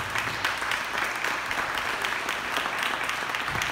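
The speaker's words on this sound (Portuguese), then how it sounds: "aplauda bem forte aquele que vive eternamente." A church congregation claps hard together, a dense, sustained wash of applause holding steady throughout with no voices on top.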